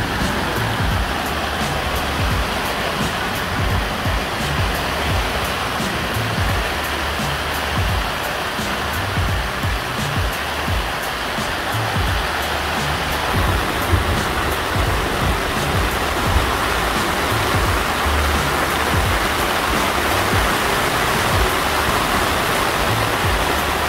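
Steady rainstorm drumming on an Ozark Trail 12-person cabin tent, a dense continuous hiss with a low patter, loud and unbroken throughout with no voices.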